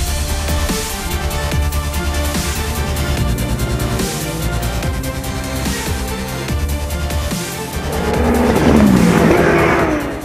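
Race cars, including a BMW, pulling away for the second race at the Lédenon circuit: a dense pack of engines revving and shifting in repeated surges, ending in a louder roar as the field passes close by.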